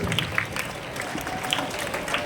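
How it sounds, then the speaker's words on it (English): Scattered clapping from a group, fairly faint and continuous, with no distinct voices. "Let us continue to clap as the dignitaries are proceeding towards their seat."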